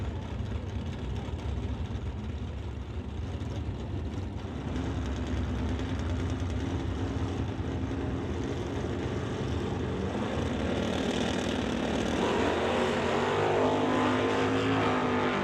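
Drag race cars, one of them a Chevy Nova, roaring down the strip at a door-car event, a distant engine drone that swells louder and rougher toward the end.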